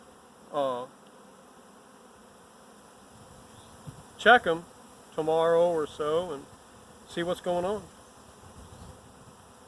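A swarm of Italian honey bees (Apis mellifera) hums softly and steadily in the background while someone talks in several short bursts close by.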